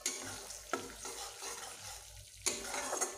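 Masala spice paste sautés in oil while being stirred, a soft continuous sizzle with scraping strokes of a spoon against the pan, faint and close, no one speaking.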